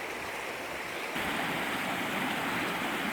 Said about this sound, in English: that's a waterfall, but not the one I'm after